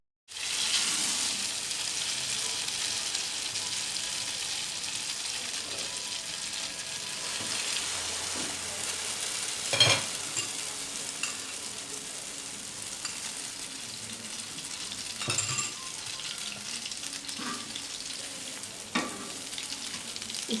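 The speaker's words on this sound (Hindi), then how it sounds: "उसको हम तवे के ऊपर डाल देंगे" Bread slices for French toast sizzle and fry on a tawa griddle over low heat, a steady continuous crackle with a few louder spits and stirs, no talking.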